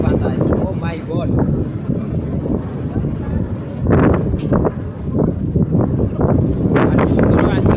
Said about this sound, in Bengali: কি পরিমাণ বাতাস সমুদ্রের পাশে সামুদ্রিক বাতাস